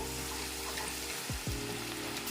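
Doi katla, a rohu fish curry with tomato paste, frying in a pan over a raised gas flame as it is stirred; a steady, close sizzle runs throughout with a couple of soft utensil scrapes.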